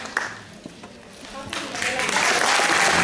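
Applause from an audience at an Italian event, clapping rising from scattered claps into a fuller burst, with voices talking over it.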